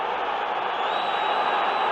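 A football stadium crowd at the 1968 European Cup final reacts to a foul with a steady, dense roar of disapproval, a broad wash of voices holding at one level throughout.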